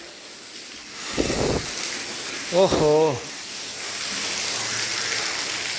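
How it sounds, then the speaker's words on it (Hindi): Heavy rain falls steadily around a farmhouse, making a continuous broad hiss throughout, while a man briefly exclaims and a short voiced sound rises over it. "बारिश अभी भी बराबर पड़ रही है"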